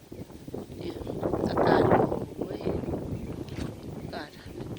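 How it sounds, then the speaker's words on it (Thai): Wind gusting steadily outdoors in open countryside at Wang Nam Khiao, a broad rushing noise that swells in the middle, with a voice talking over it. "ลมตลอดเวลาเลยอะลมตลอดเวลาเลย"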